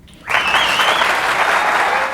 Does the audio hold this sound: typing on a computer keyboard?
no